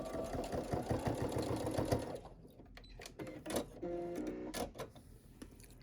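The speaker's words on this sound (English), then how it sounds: "So once I'm over it, I just continue sewing, lining it up with the edge of the presser foot." A sewing machine stitches a rounded zipper pouch with a fast, steady mechanical chatter for about two seconds, then slows into a few separate clicks and short bursts, close and moderately loud.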